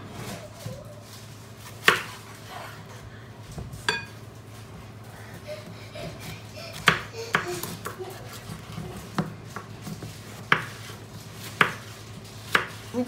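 Peeled vegetables being chopped on a board into long fry-shaped sticks for an oven-baked chicken dish, with sharp knife strikes landing at uneven intervals, close and fairly loud over a low steady hum.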